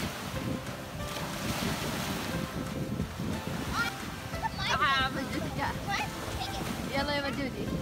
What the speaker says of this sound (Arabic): تكلم البحر.